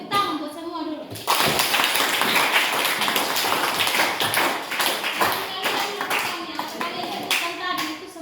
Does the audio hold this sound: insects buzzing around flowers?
no